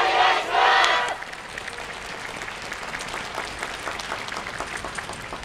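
A crowd at the YOSAKOI Soran festival in Sapporo, with a shouted burst of voices at first, then lighter, scattered clapping from the audience continuing underneath.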